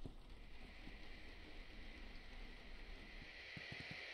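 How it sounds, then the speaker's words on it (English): Steady rain falls in a video game, a faint, even hiss running throughout, with a few soft low thumps near the end. "Oh, it's raining. I love rain."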